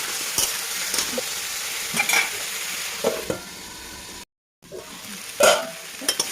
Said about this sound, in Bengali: দিয়ে এরপরে এটাকে ভালো করে একটু নাড়াচাড়া করে নেবো।